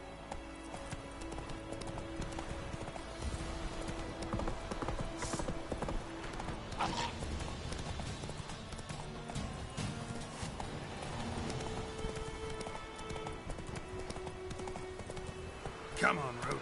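Roach the horse gallops in The Witcher 3, a continuous rhythmic clip-clop of hooves at moderate volume beneath game sounds and talking.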